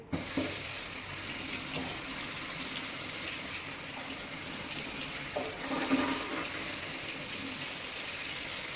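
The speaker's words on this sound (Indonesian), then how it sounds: "basahi tangan sampai 5 cm di atas siku" Tap water runs steadily from a faucet as hands are wet up to just above the elbows for a surgical scrub, a continuous close splashing hiss that holds for the whole stretch with small shifts where the hands move through the stream.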